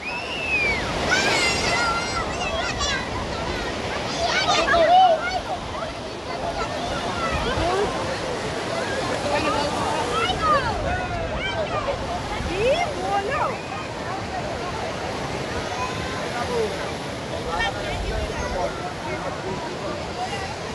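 Sea waves wash in at high tide on Udaipur Beach near Digha, a steady broad surf roar with some wind, while voices talk over it throughout.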